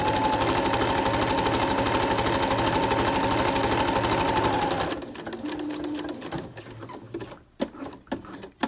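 Sewing a cloth mask, a machine hums loudly and steadily for about five seconds, then stops, leaving quieter fabric handling and a few soft knocks.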